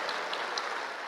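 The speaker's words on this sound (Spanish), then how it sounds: "Oye, aplauso." Audience applause at a Catholic men's conference, a steady wash of many hands clapping with a few sharper claps standing out, fairly loud and unbroken, with no voices over it.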